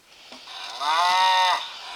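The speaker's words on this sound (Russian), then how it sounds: "Да, молочко дают коровы." A farm cow lets out a single loud, close moo, a deep drawn-out bellow of about a second that rises and then trails off.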